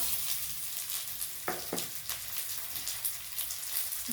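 Green chillies and ginger paste drop into hot oil with fried garlic for a rohu fish curry with taro, a steady sizzle broken by a couple of sharp crackling bursts as they hit the pan.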